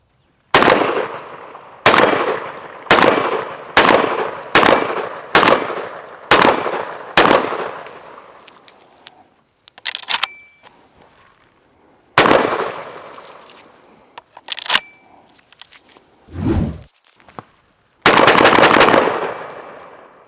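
Mossberg 940 SPX semi-auto shotgun firing buckshot: eight loud, sharp blasts in quick even succession with decaying echoes, then a pause with metallic handling clicks, and a couple more shots later.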